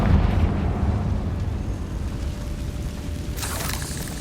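A Confringo fire-blast spell explodes in Hogwarts Legacy, a heavy boom at the start that rumbles and decays, followed by a quieter sustained hiss and a brief bright burst near the end.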